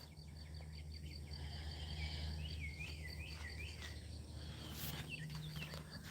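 Outdoor insects chirr in a steady, faint background drone, with a few bird chirps rising briefly over it and no talking.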